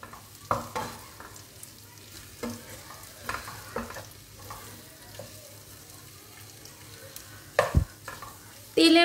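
Marinated chicken frying in oil in a pan for chicken Manchurian, a soft constant sizzle broken by occasional spatula scrapes and clinks, with a sharp knock near the end and no talk.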